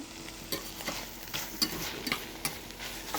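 Onions seasoned with salt, pepper and a little sugar sizzle in a pan, a steady frying hiss broken by small spits and occasional light clicks of a utensil, near and without voices.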